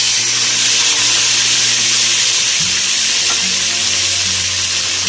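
Water poured into a pan of browned onions and spices sets off loud, dense sizzling and hissing, steady and close throughout, with a faint stir partway in.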